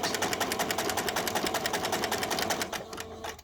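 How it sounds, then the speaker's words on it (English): A sewing machine runs a steady, fast stitching burst along the seam of a show bear, its rapid regular needle clatter loud and close, slowing and stopping near the end. "I'm going to sew up until I get to the dot."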